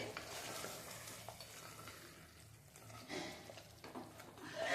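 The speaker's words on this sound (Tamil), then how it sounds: "நல்லா வதக்கி விட்டுருவோம்." Chicken curry sautéing in oil while being stirred, a soft continuous sizzle with occasional scraping strokes of the spoon, fairly quiet and without talk.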